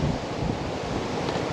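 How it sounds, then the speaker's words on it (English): Strong wind blows outdoors on a blustery day, a steady broadband roar buffeting the microphone with low rumbling gusts throughout. "So windy today."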